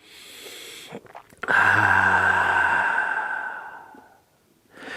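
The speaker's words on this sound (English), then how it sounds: "Take a nice, big, slow inhale through your nose and exhale out your mouth." A slow breath drawn in through the nose and then let out through the mouth in a guided yoga session, a faint short intake followed by a long, loud, close sighing exhale that fades to quiet.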